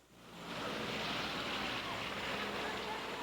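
A firefighting plane roars overhead above a flotilla of boats on open water, a broad steady rushing drone that swells in after a brief quiet start and holds loud, with a voice faintly under it.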